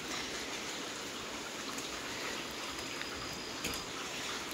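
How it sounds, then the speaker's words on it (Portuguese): Steady rain falls on a tarp stretched over a veranda after floods, a constant dense hiss with scattered louder drops, close and unbroken throughout. "Deu para segurar um pouquinho a chuva"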